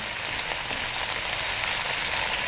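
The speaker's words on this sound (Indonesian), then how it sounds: "bawang putih, lengkuas dan daun salam. Ini kita tumis dulu ya sampai harum." Shallots, garlic, galangal and bay leaves sautéing in a pan for a beef and broccoli stir-fry, giving a loud, dense, even sizzle that crackles steadily and close throughout, with no talk or stirring strokes.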